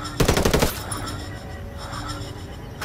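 Automatic gunfire in the video game Ghost War, a loud close burst of rapid shots followed by quieter background game ambience.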